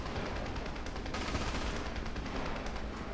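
Dense, continuous gunfire and battle noise in the War Thunder tank game with an Italian 90/53 M41M, loud rapid reports blurring into a steady roar with no gaps for the full few seconds.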